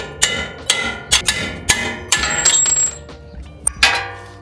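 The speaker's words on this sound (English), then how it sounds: "we'll use a punch to punch out the bolts here." Metal punch struck hard with a hammer to drive lower shock mount bolts out of a Lexus GX460 suspension, a series of sharp ringing metallic hits at irregular intervals, close and loud with no talking.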